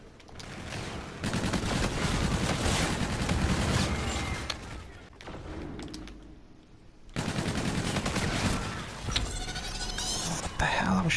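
Rapid automatic gunfire in Call of Duty Infinite Warfare beta multiplayer, long loud sustained bursts broken by a short lull, with a voice talking over the shooting.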